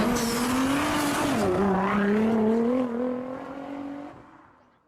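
Race cars circling Silverstone in Assetto Corsa Competizione cross the finish line, their high engine whines sliding up and down in pitch with a brief tyre squeal, then fading into the distance.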